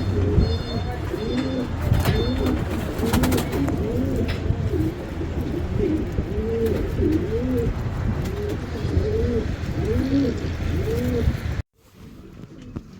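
Pigeons coo in steady, repeated rounds close by, while rain falls in the background, in Quetta, Pakistan. A voice talks faintly under the cooing, and the sound cuts off sharply near the end.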